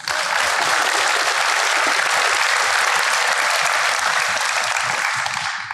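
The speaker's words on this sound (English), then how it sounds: "please give them a round of applause." Dense, steady applause from a large audience at a high school awards day, honoring students receiving scholarships; the clapping stays loud and even throughout with no speech over it.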